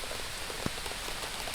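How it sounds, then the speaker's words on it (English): Heavy rain pours down on a hot, sunny day, a steady broadband hiss of drops hitting surfaces with one brief louder patter, continuous and even throughout. "it's pouring down rain, sun shining"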